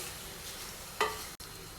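Spices and leaves for tomato pickle fry gently in oil on low heat, giving a soft, continuous sizzle with one brief louder scrape of stirring partway through.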